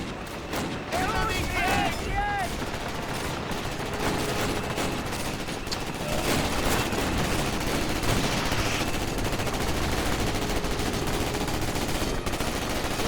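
Dense World War II battlefield gunfire in Call of Duty: United Offensive, with continuous rattling machine-gun bursts and rifle shots over a steady roar, with voices talking underneath.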